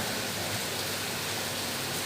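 Rain falls outside a classroom in Indonesia, a dense, even hiss of steady downpour that fills the whole stretch with no breaks and no voices.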